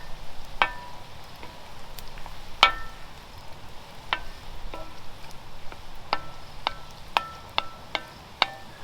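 Onions sauté in a pan over an open fire, giving a soft, continuous sizzle with scattered sharp crackles and pops. Occasional clicks of a utensil against the pan come through, and no one speaks.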